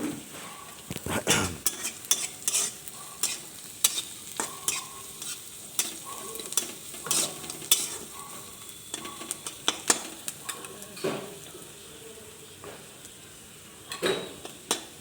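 Soybean chunks with onions stirred and frying in a pan, with scraping utensil strokes and clinks over a soft sizzle, close up.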